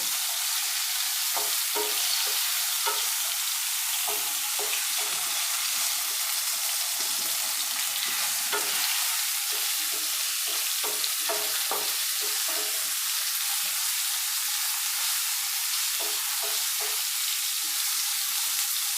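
Tomatoes fry in a pan with a steady, dense sizzle, and scattered scraping stirs come through near and clear for the whole stretch, with no voices.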